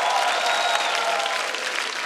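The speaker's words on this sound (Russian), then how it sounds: "Аплодисменты." Audience applause in a studio at a children's stand-up comedy show, steady dense clapping that holds evenly throughout, loud and close, with no talk over it.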